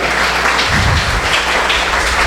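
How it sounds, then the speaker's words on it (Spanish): A congregation in a church service claps together in a brief burst of applause, a dense, steady patter that fades quickly, with a faint voice beneath. "¿Cuánto le damos un aplauso al Señor?"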